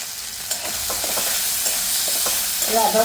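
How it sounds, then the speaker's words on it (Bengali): Ginger paste fries in hot oil for a Bengali fish curry, a close steady sizzle with soft stirring scrapes and a few brighter pops near the end, no voices. "আদাটা আমি একটু ভালো করে ভাজবো যতক্ষণ আদা থেকে কাঁচা গন্ধটা চলে যায়"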